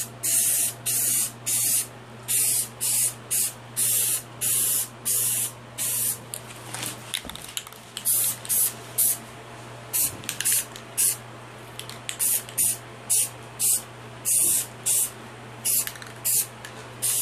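Spray paint hisses out in repeated short bursts, about one per second, as a heavier third and final coat goes onto a Legacy movie morpher prop; the close, loud bursts pause briefly midway, then resume.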